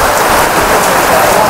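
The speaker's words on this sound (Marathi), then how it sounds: "खूप मोठा पाऊस आलेला आहे." Heavy rain pouring down at a town market during Diwali, a dense, loud, continuous patter of drops on surfaces, close by and unbroken, with no voices.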